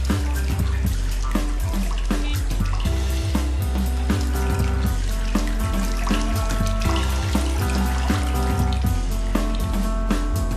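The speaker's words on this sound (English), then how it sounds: "the workers will bathe these pre-cut seat templates in plain water for 2 hours" Pre-cut leather saddle seat templates soak in a bath of plain water, giving a continuous, close splashing and running-water wash with a steady rhythmic pulse throughout.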